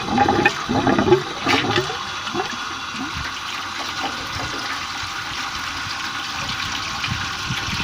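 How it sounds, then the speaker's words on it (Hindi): A DC water pump refilling and pushing water through a pipe gives a loud gushing rush that starts with splashy bursts and then settles into a steady, continuous flow close by. "देखें दोस्तों, दोबारा इस पंप ने पानी उठा लिया है।"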